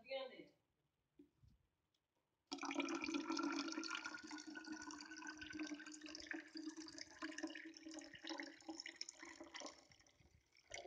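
After a few quiet seconds with faint knocks, water begins pouring into a container in a steady, hissing stream that runs on continuously, close and fairly soft.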